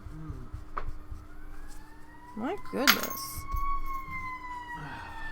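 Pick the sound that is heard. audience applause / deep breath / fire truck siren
fire truck siren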